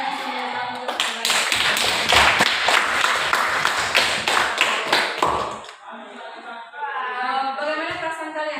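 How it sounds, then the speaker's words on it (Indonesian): A classroom group claps together for several seconds, a dense patter of hands in an indoor room, then fades as a voice begins speaking. "mari kita berikan aplaus untuk teman-teman yang masih menonton"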